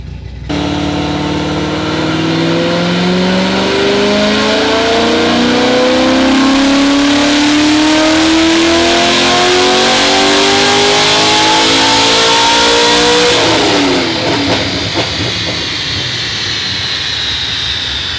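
An LS7 V8 in a naturally aspirated C6 Corvette Z06 on a dyno rises in a long, loud wide-open-throttle pull over about thirteen seconds. It then drops off sharply and settles into a rough idle, close and unaccompanied by talk.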